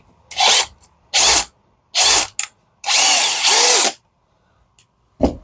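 A power drill with a 7/16 bit bores into wooden model-railroad benchwork in five close, loud bursts of whirring and grinding, the longest about a second, separated by silence.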